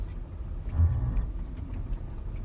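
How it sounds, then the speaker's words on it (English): Busy road traffic on a Saturday, faint distant engine hum with one car briefly passing closer midway, otherwise a low steady rumble and no speech. "There's a lot of traffic."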